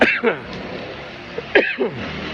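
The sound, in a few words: coughing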